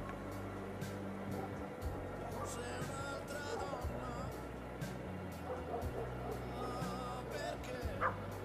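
A puppy yips and barks intermittently over steady background noise and a low engine hum, with faint voices also present.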